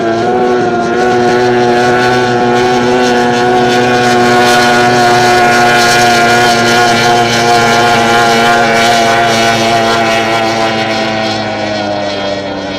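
Racing powerboats on a water course produce a loud, sustained engine drone that holds steady with a slight swell throughout, with no other sounds over it.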